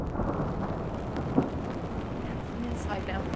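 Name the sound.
rain and thunder sound effects added in post-production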